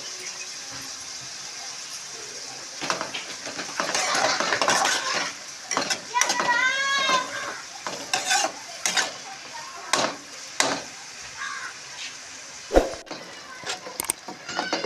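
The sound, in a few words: onions with salt sautéing and being stirred in pan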